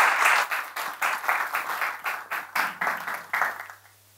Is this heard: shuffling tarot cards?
no